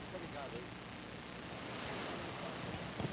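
Rushing water from a waterfall on a river creates a steady, broad roar, fairly faint and partly blown by wind, with voices nearby.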